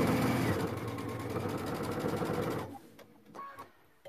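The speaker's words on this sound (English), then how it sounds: "So I'm going to stitch a few inches or a few stitches." Sewing machine stitching quilt fabric, a close, steady rhythmic whir for about two and a half seconds before stopping, leaving faint handling noises.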